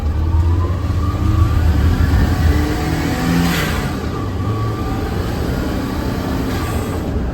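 A turbocharged Daihatsu Mira's engine revs hard through an aftermarket exhaust with a loud, raspy note, rising and holding as it accelerates, close by and steady throughout.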